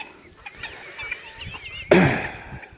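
Hens clucking in laying pens on a farm, a few soft, scattered clucks and chirps at mid distance, then a sudden louder burst of noisy clucking near the end.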